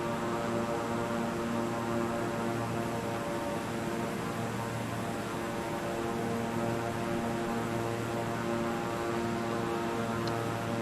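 A propeller airplane engine in Microsoft Flight Simulator 2020 drones steadily throughout, a constant tonal hum with even buzzing harmonics, heard alone with no talk.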